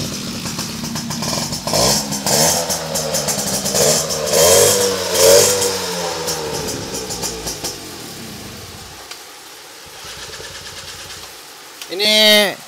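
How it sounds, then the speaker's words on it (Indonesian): A 2003 motorcycle engine, fitted with a double starter, runs and revs in uneven bursts. It drops to a quieter idle, then gives one more short rev near the end. "Nah hidup bentar, sama-sama mesin enak ya."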